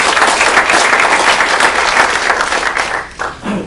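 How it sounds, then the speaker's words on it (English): A room of attendees at a real estate meeting applauds, loud and full at first, then thinning and tapering toward the end as a few last claps and a murmur come through. "So give them guys a round of applause."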